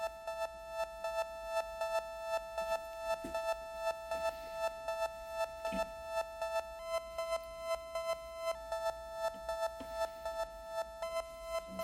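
A steady modular synth tone with shimmering harmonics pulses in a slow, regular LFO swell, the pitch shifting a couple of times; clean and alone, with no voices.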